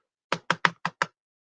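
Five sharp, evenly spaced knocks on a door, close and crisp, come in quick succession over silence, reenacting a forceful police knock.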